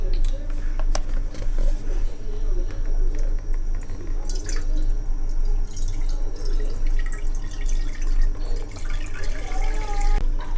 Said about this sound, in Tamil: பாலை ஊத்திக்கலாம்.